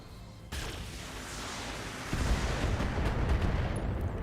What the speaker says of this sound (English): Large LRM racks are kind of like your personal on-field artillery.